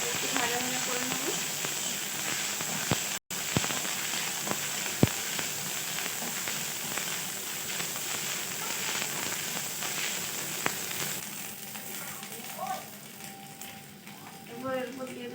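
Ginger, green chili and coriander paste sizzling in hot oil, a steady close frying hiss with occasional sharp pops and crackles, continuing without pause.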